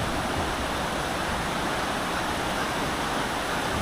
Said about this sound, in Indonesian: Ini ada sungai. Airnya jernih.